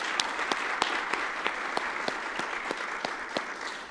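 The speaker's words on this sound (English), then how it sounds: "Let's give a big round of applause to all our presenters today" An audience at an innovation celebration gives the presenters steady, full applause, with a dense wash of clapping and regular sharp nearby claps throughout.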